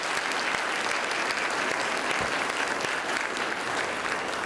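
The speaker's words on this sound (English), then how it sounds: "Let's give them a big round of applause." Steady, dense audience applause filling a hall at a World Trade Center New Orleans event with the U.S. Secretary of Commerce, sustained and even throughout.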